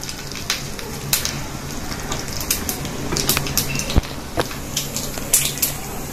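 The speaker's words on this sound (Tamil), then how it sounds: "ஒரு டீஸ்பூன் போல ஆயில் விட்டுக்கங்க கடுகு ஆட் பண்ணிக்கலாம் கொஞ்சம் வெல்லம் உண்டு கொஞ்சம் கடலை பருப்பு கருவேப்பிலை" Mustard seeds, chana dal and curry leaves sizzle in a teaspoon of hot oil while a tempering is made for a coconut-free chutney. The crackle is steady and close, with sharp pops and spits scattered throughout and no talk.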